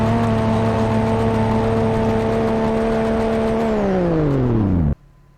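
In the Roblox video game, a rally car's engine holds a loud, steady, tonal drone, then winds down in pitch and cuts off abruptly, leaving a faint hum.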